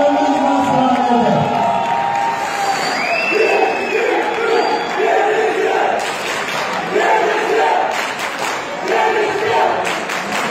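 Audience at a high school folk dance performance cheering, whooping and shouting with some applause, a loud crowd roar that builds and rises in waves, with a voice calling out over it.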